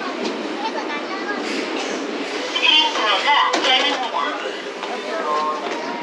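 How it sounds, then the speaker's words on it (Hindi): A train arrives at a station in South Korea with a steady rumble and rail noise at moderate distance, swelling briefly midway, while people talk over it. "तो ट्रेन की वेट कर रहे हैं, दो तीन मिनट में आने वाली है ट्रेन।"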